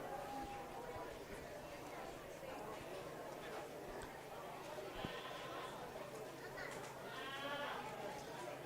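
Goats bleat at a county fair goat show in Las Animas County, a few wavering calls rising over a dense, steady crowd chatter and a loudspeaker-like voice in a large hall.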